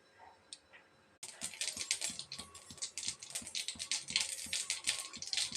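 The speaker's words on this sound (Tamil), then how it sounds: "கடுகு உளுந்து நல்லா பொரிஞ்சிச்சு." Mustard seeds and urad dal splutter in hot oil in a kadai. After a brief quiet start, dense, irregular crackling pops carry on steadily and close up.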